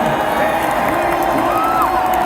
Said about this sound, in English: The crowd is going crazy as the result that everybody wanted.